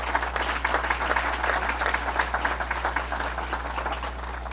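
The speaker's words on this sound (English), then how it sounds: "And let's give him a round of applause." An audience at a governor's announcement at a children's hospital gives a round of applause, steady clapping from many hands over a low electrical hum.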